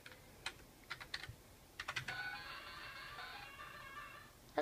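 Quick bursts of keystrokes on a computer keyboard, close and fairly quiet, with scattered taps early and then a denser run of typing, with no talking.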